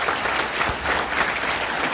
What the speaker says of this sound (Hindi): एक ताली चाहेंगे हम रवि जी के लिए, इलाहाबाद वाले रवि जी।